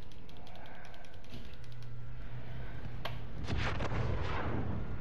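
Gunfire in the Warzone battle royale game on Rebirth Island: a sharp single shot cracks out, followed by a cluster of heavier bursts over steady background game noise.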